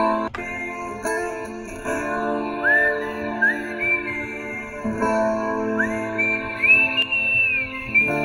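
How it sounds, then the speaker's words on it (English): A person whistles the slow, wavering melody of a song in sustained rising notes over a quiet background hum, with a few soft clicks. "making sure that the whistling is not too loud for the microphone"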